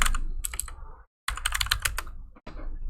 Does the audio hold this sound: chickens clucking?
no